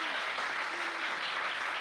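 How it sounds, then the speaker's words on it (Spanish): A crowd at a book presentation applauds steadily, a dense wash of clapping that holds at an even level for the whole short stretch. "Yo les pido un aplauso."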